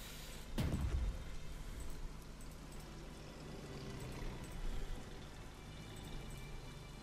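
Steady rain in the strategy game Strategic Mind: Blitzkrieg, set in the Battle of Britain, patters and hisses continuously, with a dull thump near the start.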